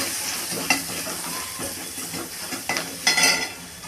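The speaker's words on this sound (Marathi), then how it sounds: "बारीक केलेली हिरवी मिरची ते सर्व टाकायचं. छान परतवायचं." Finely chopped green chillies, with mustard seeds and cumin, sauté in a hot pan with a steady sizzle, while a spoon scrapes and stirs in uneven strokes, a sharper clatter near the end.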